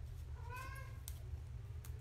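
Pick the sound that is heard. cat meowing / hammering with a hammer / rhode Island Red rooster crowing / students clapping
cat meowing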